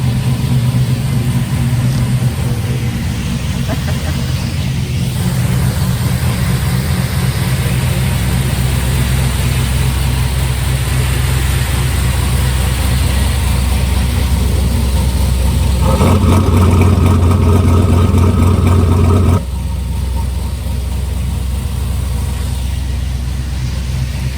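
A turbocharged LS engine in a 1955 Buick runs steadily through its new exhaust, a loud, deep continuous drone that swells louder for a few seconds near the end before settling back.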